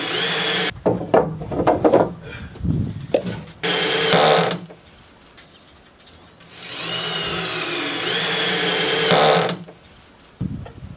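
A power drill whirs in several bursts while a 2x4 picnic table is being built, the motor revving up and winding down between shorter buzzing runs and clattering wood handling, with no talk.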